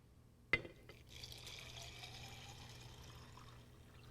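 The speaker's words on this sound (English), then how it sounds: "I fill up the jar with water." Water poured into a glass jar holding washed seeds, starting with a sharp clink, then a steady trickling fill heard close and quiet.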